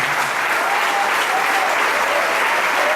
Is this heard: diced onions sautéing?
no